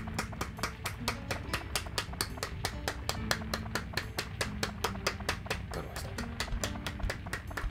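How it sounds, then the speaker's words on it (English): Rhythmic hand clapping repeats at a steady quick tempo to a dance routine's backing music, with many crisp, evenly spaced claps throughout at moderate loudness. "Everybody clap your hands."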